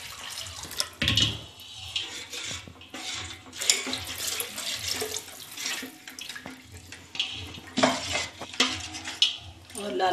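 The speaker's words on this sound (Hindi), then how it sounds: "जरूरत के अनुसार पानी डालते हैं।" Water is poured into kadhi during home cooking, splashing amid clattering pots, utensils and stirring, with a voice speaking over the kitchen sounds.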